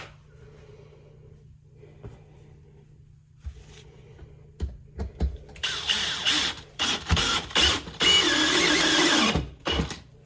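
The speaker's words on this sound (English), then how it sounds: "Right now, we'll go ahead and screw this down." A power screwdriver driving screws into a board, quiet at first with faint clicks, then loud whirring, ratcheting bursts in the second half as screws are driven tight and flat.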